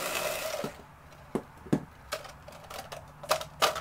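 A Bosch IXO cordless screwdriver with its cutter attachment snips through scratchy plastic, giving a quick run of sharp, irregular clicks and crunches over a low motor hum, close and fairly quiet.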